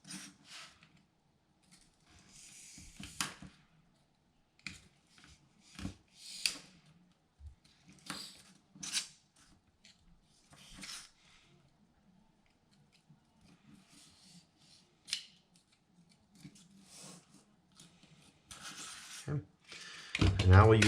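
Scissors cutting through material during a temple model craft build, a series of short crisp snips and crunches in uneven bursts, close up and with quiet gaps between.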